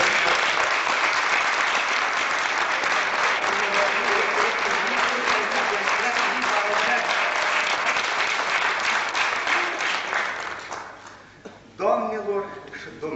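Sustained, loud audience applause at a 1990 humor festival in Romania, dense clapping filling the hall for about ten seconds before thinning out, with a voice starting to speak near the end.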